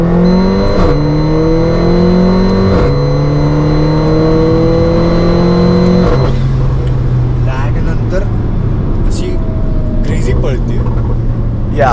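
A tuned 450 hp Mercedes-AMG GLA45's quad exhaust roars loud and close, its engine note climbing, then dropping sharply through a couple of downshifts before rumbling on.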